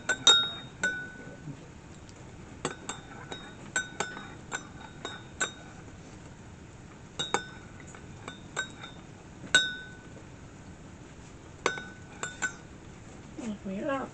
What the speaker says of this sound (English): gonna give that a good stir